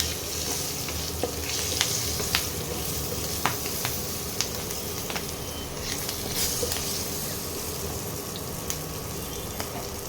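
Spices tempering in hot oil for a Bengali ridge gourd and coconut dish, a steady close sizzle and crackle running through the whole stretch with small sharp pops, no talk.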